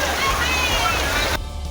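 Floodwater rushing after heavy rain in Delhi, a loud continuous sloshing roar that cuts off abruptly near the end.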